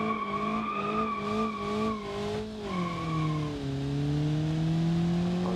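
Engine of a Volkswagen T-Cross driven in the BeamNG.drive game, a steady harmonic drone that rises and falls as the car accelerates and shifts, with a hint of tire squeal, continuous and close throughout.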